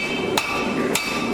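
A 1.8 kg cross-peen hammer, a baby sledge, strikes metal on an anvil during a three-heat forging challenge, giving two sharp ringing blows about half a second apart over a steady hum of shop background noise.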